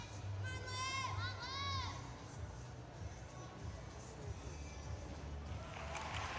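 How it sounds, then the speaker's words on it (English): USA teammates cheering on a gymnast at a junior gymnastics meet, with distant crowd noise and some high calls and whistles over a busy arena hum. "You could hear her teammate, USA teammates cheering her on."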